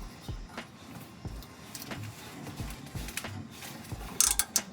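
A ratchet wrench clicks rhythmically at close range as bolts on a Gen 2 Ford Raptor bumpstop are snugged down to factory torque spec, the steady ratcheting rising slightly at the end.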